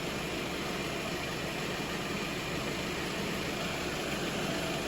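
A Skoda, Volkswagen or Audi engine with an intermittent crank-no-start fault idles in a steady, unbroken low rumble mixed with broadband hiss, constant in level and close up, with no talking.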